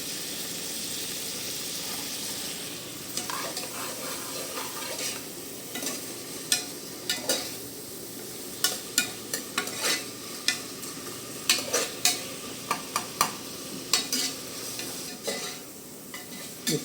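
Biryani ingredients sautéing in a pan, with a steady hiss of frying under repeated scraping, stirring strokes that grow more frequent and distinct midway, close by with no talk.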